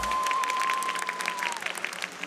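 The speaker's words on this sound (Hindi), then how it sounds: "जिनको लगता है मानना चाहिए तालियां बजा दो" Live audience claps at an event in response to a host's call, a dense burst of applause that thins into scattered claps, with a steady electronic tone running beneath at first.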